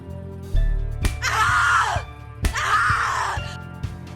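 A character in the horror game The Cat Lady lets out two long, loud screams, each lasting about a second and a half and separated by a brief pause.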